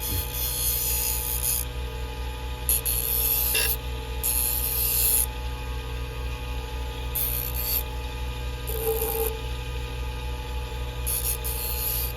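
Grooming or beauty shears are dressed on a grinding wheel, giving a steady abrasive rasp over a constant motor hum, with brief brighter scraping bursts repeating across the clip.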